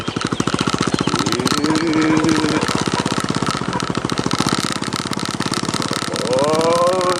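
Motorcycle engine running steadily and loud throughout a ride toward a marigold farm through misty countryside, a continuous close-up putter with slight throttle swells near the end.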